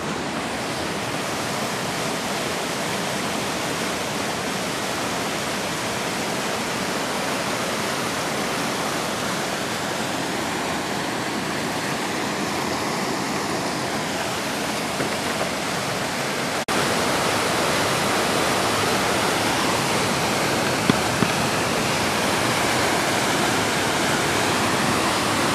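Little Qualicum River Falls, a waterfall, roars in a steady, dense rush of falling water that stays loud and unbroken throughout, with no voices over it.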